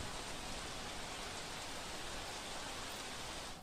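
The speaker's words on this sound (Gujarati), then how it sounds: "સુરત શહેરમાં વહેલી સવારથી ધોધમાર વરસાદ વરસી રહ્યો છે" Heavy early-morning downpour over Surat city: a dense, even roar of rain hiss that holds steady from start to finish with no voices.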